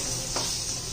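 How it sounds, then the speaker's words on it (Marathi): Eggplant pieces sauté in hot oil with Kashmiri red chilli powder, giving a steady close sizzle with a brief louder burst of frying. "आणि मग त्याच्यात वांगी घालून घ्यायची. मस्त अशी परतून घ्यायची आहे"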